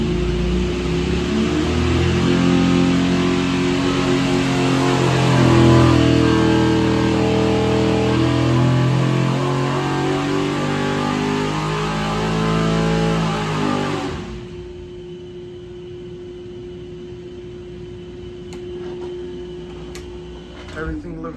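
A 383 cubic inch small-block Chevy built for a single 88mm turbo, with hand-ported AFR 220 heads, roars through a loud sustained pull on a dyno for about fourteen seconds, then cuts sharply to a quieter idle hum with a voice talking over it.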